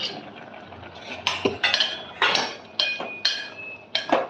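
A spoon stirs Tirunelveli-style sodhi curry with vegetables in a metal pot, making about eight rhythmic scraping strokes and clinks against the sides. The strokes are close and moderately loud, with a faint bubbling underneath.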